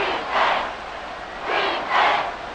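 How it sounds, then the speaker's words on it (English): Crowd at Arrowhead Stadium in the football video game Madden NFL 24 roaring in three broad swelling waves, loud and distant-sounding, with no voices over it. "The Arrowhead crowd in full roar."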